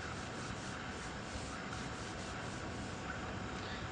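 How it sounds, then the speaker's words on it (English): A workman lightly sands between coats of paint outdoors in cold weather, a continuous faint abrasive rubbing with gentle rhythmic strokes and no talk. "This workman, well wrapped up against the cold, is doing a light sanding between coats."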